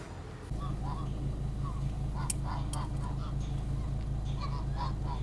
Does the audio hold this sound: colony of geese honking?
yes